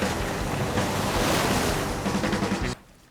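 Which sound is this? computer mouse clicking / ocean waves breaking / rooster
ocean waves breaking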